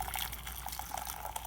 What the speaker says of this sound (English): pour in the necessary quantity of your water